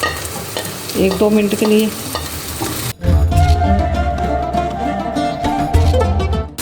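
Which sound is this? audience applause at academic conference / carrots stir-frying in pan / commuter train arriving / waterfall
carrots stir-frying in pan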